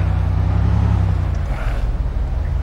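A car driving in the survival game DayZ, a steady low engine drone that holds on and then wavers a little, loud and close throughout.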